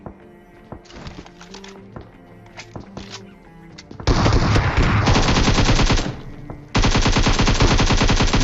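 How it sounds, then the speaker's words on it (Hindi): Uzi fire in a video game: light shots and thuds at first, then two long, loud, rapid automatic bursts of gunfire, heard alone without speech. "मतलब उसको मैं खाली उजी पकड़ के मार रहा था।"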